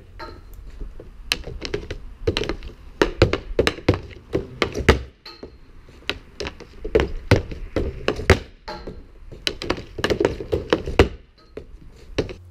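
A Stedol hockey puck hit on a shooting pad, giving a fast, irregular run of sharp hard clacks and taps, close and fairly crisp, with no voices.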